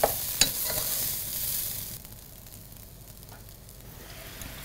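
Rice is stirred and fried in a pan, with a couple of sharp scraping clicks at the start, then a soft, steady sizzle that fades lower and continues alone.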